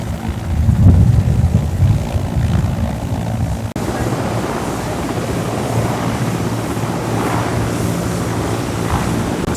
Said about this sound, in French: Sur la piste d'atterrissage, les hélicoptères se positionnent.